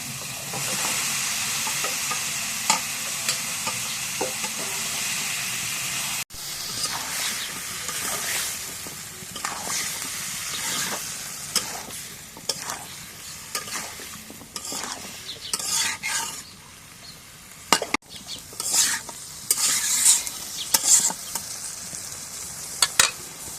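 Potatoes and soybean chunks stir-fried in a pan, with continuous sizzling and hissing under repeated scraping and clacking of a spatula against the pan, close and busy from start to finish.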